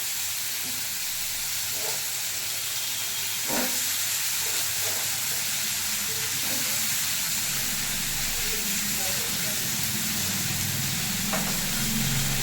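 Long beans, papaya, carrot and capsicum frying in a pan: a continuous loud sizzle with occasional stirring knocks, close, steady throughout.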